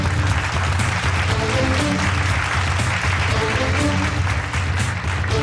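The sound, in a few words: studio audience applause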